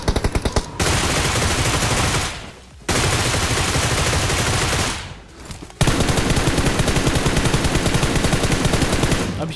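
An enemy player in BGMI fires from behind: loud, close automatic gunfire in long rapid bursts, with short pauses between them.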